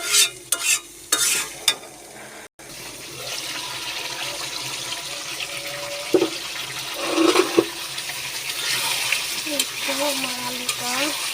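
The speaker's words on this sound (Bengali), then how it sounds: "আলুগুলো নাড়াচাড়া নাড়াচাড়া করে একটু ঢেকে দিব আলুগুলো কষানো হোক" Potatoes being stirred and sautéed in a pan, with a few sharp clanks of a spoon at the start, then a steady loud sizzle and scraping that runs throughout.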